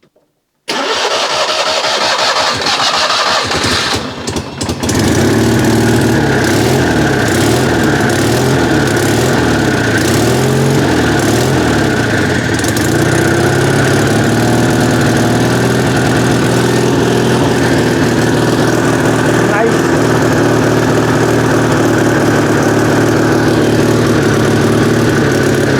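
An old Citroen 2CV cranks over briefly, then catches and settles into a steady, buzzy idle of its small twin-cylinder engine, close and loud, running on without a pause.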